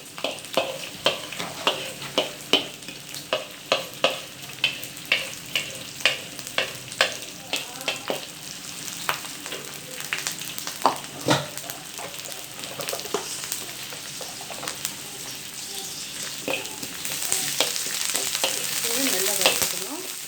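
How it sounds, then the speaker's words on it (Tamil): Garlic, green chili, curry leaves and ginger fry in oil for a chicken curry, a steady close sizzle broken by regular scraping stirs that fade midway while the hiss swells louder toward the end, with no voices. "அப்புறம் சாப் பண்ணி வச்சு ஜிஞ்சர் எல்லாம் போட்டு வறுத்தரலாம்."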